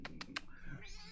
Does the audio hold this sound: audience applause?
no